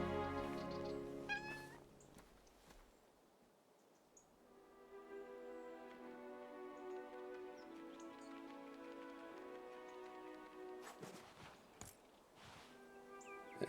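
A cat meows in a short burst of several cries near the start, set inside the video game 11-11: Memories Retold, then gives way to a steady layered musical and ambient background with a few sharp sounds late on.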